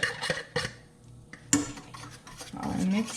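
Sugar and eggs whisked together in a bowl for pastry cream, with a few close clinks and scrapes of utensil against the bowl and a steadier stirring swish toward the end, no talking.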